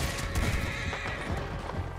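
Horse whinnying loudly alongside a steady clip-clop of hooves in the video game Red Dead Redemption 2, close and continuous with no talk over it.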